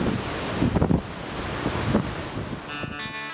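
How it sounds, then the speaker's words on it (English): Storm waves and wind on the Cook Strait coast of New Zealand during a southerly storm, a low rushing wash with a few surging swells, fairly faint, ending with a brief tonal music-like sound. "a huge southerly storm, massive waves rolling in"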